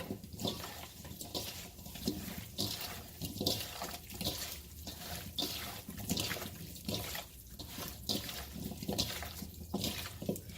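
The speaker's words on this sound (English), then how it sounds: "Now we're going to thoroughly mix this all in." Pickling ingredients with sugar being mixed into cucumbers, a steady wet squelching and sloshing with a regular rhythmic pulse, close and moderately loud, no talking.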